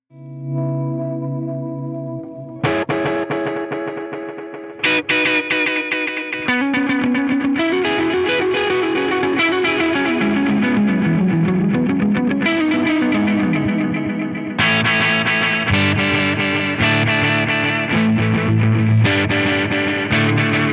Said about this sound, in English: It's called Echoplex Juniors. And it's pretty awesome. There's a very, very good echo preset.